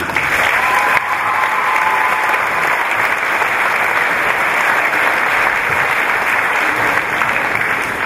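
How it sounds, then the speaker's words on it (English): An audience applauds warmly and steadily for several seconds at a jigs and reels show's closing, a dense, even wash of many hands clapping together. "So I want to give all the big round of applause, please."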